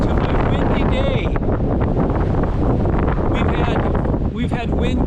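Strong gusts on a windy day in North Dakota batter the microphone with loud, continuous roaring rumble that barely lets up, while a voice talks underneath.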